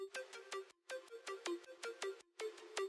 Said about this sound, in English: Then a very subtle ARP sound.